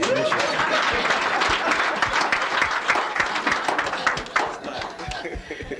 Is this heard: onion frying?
no